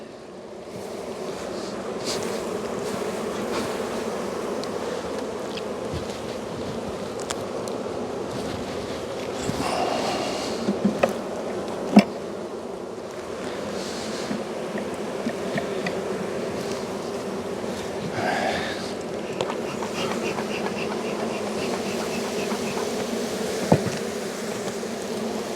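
Honeybees buzz steadily around an open beehive during an April inspection with drone brood on the frames, a close, continuous droning hum with a few brief louder passes and light clicks of handling.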